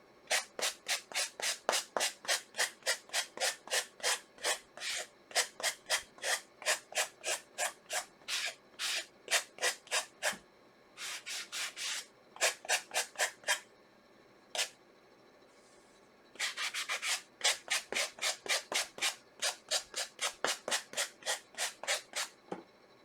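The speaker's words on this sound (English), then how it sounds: "it does take quite a bit of sanding to get these off" Hand sanding on wood, quick regular back-and-forth rasping strokes in long runs with a few short pauses.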